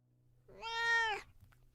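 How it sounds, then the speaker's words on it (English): A single cat's meow rises and holds for about half a second, clear and fairly close, in an otherwise quiet night setting. "The sound of a cat almost had me laughing with relief."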